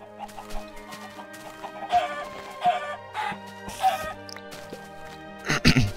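Chickens in the Minecraft video game give a string of short clucks and squawks, closely spaced and loud, against a soft tonal game background with no talk.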